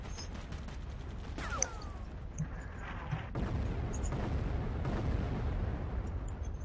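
Several sharp sniper gunshots crack from Sniper Elite, a World War II shooter game, each a loud, fairly close blast over a steady rumbling background, with no talking.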